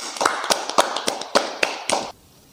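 A studio audience at a comedy Q&A show claps hands in a steady, even rhythm, sharp close claps about four per second, then stopping abruptly near the end.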